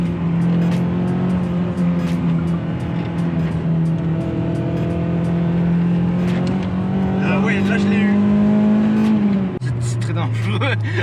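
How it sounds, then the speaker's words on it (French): A Toyota MR2 sports car accelerating, its engine note droning steadily and slowly rising in pitch for about nine seconds before dropping sharply as a gear changes, heard from inside the car with someone talking over it. "On va essayer d'accélérer un petit peu."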